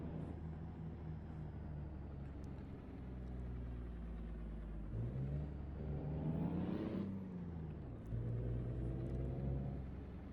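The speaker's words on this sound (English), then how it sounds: "this is a very nice sounding truck" Kenworth T2000 truck engine in American Truck Simulator, a steady low diesel rumble that climbs through revs with rising harmonic tones around gear changes, then settles and builds again near a rail yard.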